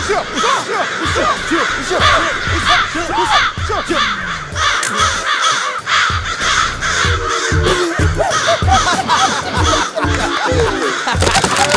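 Many crows caw loudly and continuously close by, a dense overlapping chorus of harsh calls.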